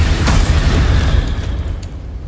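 Explosive spell blast, Confringo or Bombarda, in the video game Hogwarts Legacy: a loud, close, rumbling boom that holds steady and then slowly fades, with faint crackles near the end and no voices.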